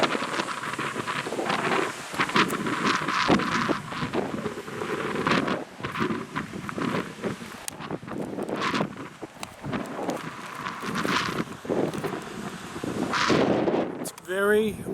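Strong gusts on Bodega Head batter the microphone in loud, uneven rumbling bursts that rise and drop throughout, with brief quieter lulls between the blasts.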